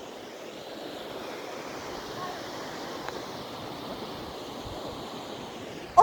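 Steady broadband rush of a waterfall heard while walking on a bridge, an even, continuous roar with some wind buffeting and a sharp bump at the very end, no talk.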